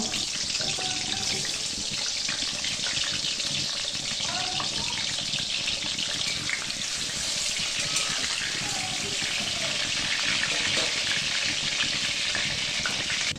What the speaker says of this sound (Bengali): সোনালি রং ধরা পর্যন্ত আলুগুলোকে ভেজে নেব।